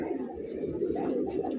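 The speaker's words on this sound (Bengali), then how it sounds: "আরও এক জোড়া বড় পায়রা" Large fancy pigeons cooing close by, a low, soft, rolling coo repeating continuously.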